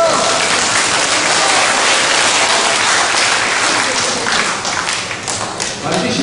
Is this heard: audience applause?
yes